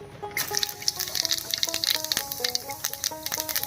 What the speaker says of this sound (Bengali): তেল গরম হয়ে গেছে, তেলের মধ্যে দিয়ে দিচ্ছি হাফ চামচ গোটা জিরা